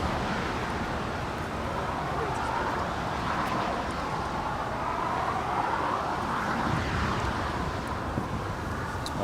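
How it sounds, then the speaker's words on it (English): A China Southern Cargo Boeing 777 freighter departs LAX with a broad, steady jet roar. The sound holds at a constant level throughout, mixed with wind buffeting and rumble. "This is China Southern Cargo Flight 474 departing to Guangzhou."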